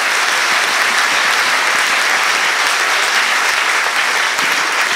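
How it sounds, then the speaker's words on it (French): Sustained, dense applause from an audience at a large public debate event, loud and steady throughout with no talk over it. "Oui, on peut l'applaudir."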